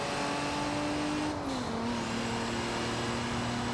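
Cabin engine drone of a Nissan Skyline GT-R in a Forza Horizon racing game, heard from the car's interior as a steady, loud hum whose pitch dips slightly, then holds, with no voices.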